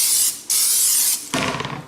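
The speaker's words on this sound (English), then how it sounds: "now what I'm going to do is just spray this with Walmart cooking oil" Canola cooking oil from Walmart sprays onto a ball of bread dough in two or three loud, close hissing bursts, each lasting under a second with brief gaps between.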